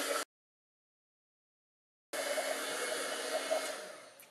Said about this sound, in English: So you take your heat gun